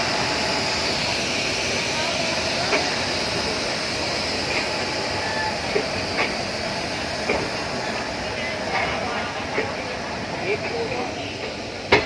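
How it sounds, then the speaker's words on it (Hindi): The Geeta Jayanti Express, train 11842, pulls out of Nizamuddin station in Delhi, heard from inside as a steady low rolling rumble with regularly spaced clacks of wheels over rail joints. "2 मिनट रुकने के बाद अपनी ट्रेन निजामुद्दीन से रवाना हो रही है।"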